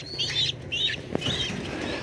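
Racing pigeons in a loft chirp and flutter while being fed a breeder mix with Integra 3000, with faint calls, a light tap and soft wing rustles at close range.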